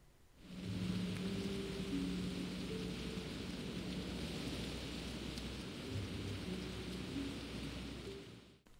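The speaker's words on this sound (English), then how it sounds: "I think it can be really peaceful, especially when it's raining" Steady rain falls across a quiet out-of-the-way area in World of Warcraft, a constant hiss of drops joined by low rolling thunder rumbling beneath for the whole stretch, with no voices.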